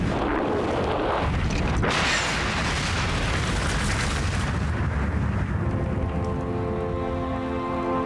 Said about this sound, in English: In that most awesome of natural events, a volcanic eruption.